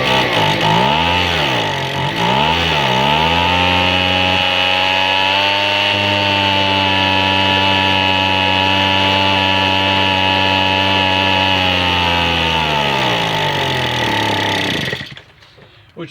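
A backpack leaf blower's two-stroke engine, running again after a piston ring replacement, revs up and down a few times, then holds a loud steady drone before cutting off near the end.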